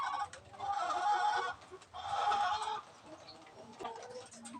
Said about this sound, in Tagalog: itong manok ko na crossbreed na rin